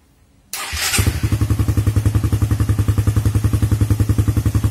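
A Suzuki Satria FU 150 motorcycle engine catches after a brief click and settles into a steady, loud, rapid idle putter close by.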